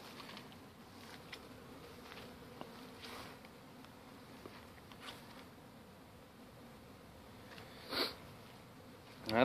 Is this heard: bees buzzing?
yes